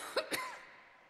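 Two quick, close coughs in a row during a lecture, fairly faint, followed by a short fading tail in a quiet room.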